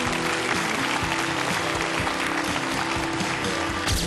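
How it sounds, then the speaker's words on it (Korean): A Korean TV quiz show's studio audience gives consoling applause to an eliminated contestant, a continuous, fairly even clapping under a faint steady hum. "탈락하신 민용원 씨께 따뜻한 위로의 박수를 부탁드리겠습니다"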